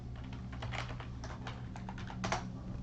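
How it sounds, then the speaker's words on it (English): Typing on a computer keyboard, a quick run of soft, close key clicks at low level, with no voices. "I'll type this out."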